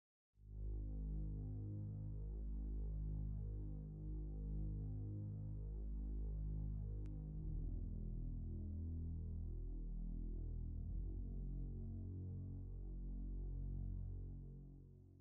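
A low, sustained synth drone in FL Studio with a steady humming, throbbing tone; reverb makes it slightly more washed and spacious partway through before fading.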